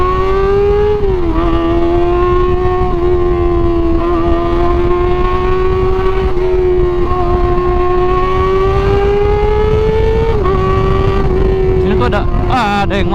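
A Kawasaki ZX25R four-cylinder motorcycle revs near and loud, its high whining engine tone rising and holding with small dips, while a voice talks briefly over it.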